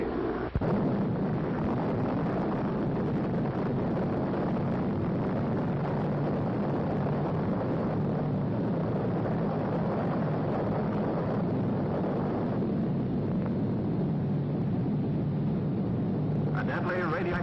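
Atomic bomb test explosion in vintage archival footage, a long sustained roaring rumble that fills the whole stretch with dense, muffled low-heavy noise.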